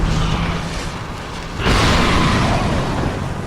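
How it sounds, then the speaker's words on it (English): An explosion in the Dark Souls 2 video game, a sudden loud burst of noise that swells over a rumbling background and lingers as a sustained roar for a couple of seconds. "I like that explosion!"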